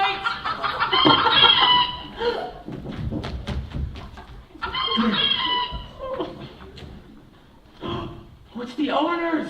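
Clucks from a hen mix with talking and gasps in a theatrical scene, with short bursts of fowl-like calls between the voices.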